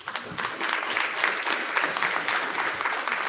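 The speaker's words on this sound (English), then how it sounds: "Let's give this panel a warm applause," An audience at a Tanana Chiefs Conference board meeting claps for a panel, a steady burst of applause from a moderate crowd in a hall, with no speech over it.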